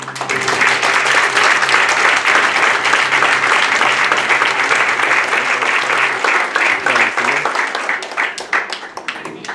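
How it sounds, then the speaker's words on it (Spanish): Wedding guests applauding a newly married couple at their ceremony, sustained dense clapping from a sizable crowd lasting several seconds before tapering, with a low hum and some voices mixed in. "Y le damos un aplauso."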